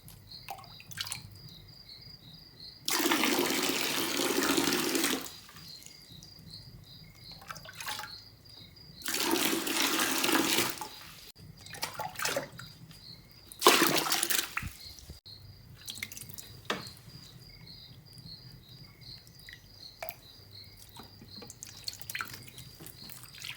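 Water drains from a dirty-bottomed aquarium tank during a water change, with three loud rushing gushes separated by quieter trickling and intermittent dripping, close by and with no talk.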